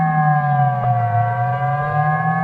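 A steady, loud emergency alert siren from Lesotho drones in a low, deep multi-tone chord that holds almost flat throughout, sounding alone without any talk.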